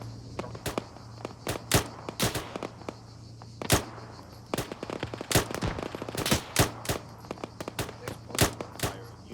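Rapid rifle fire in an Arma 3 infantry firefight: loud, sharp single shots in quick irregular strings, with a steady hum under them.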